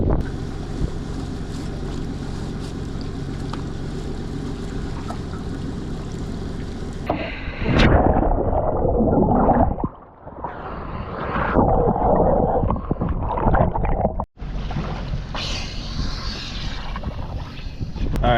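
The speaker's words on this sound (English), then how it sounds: "There's definitely wind." Wind blows hard over a river, buffeting the microphone in a constant loud rush that breaks into choppier gusts partway through.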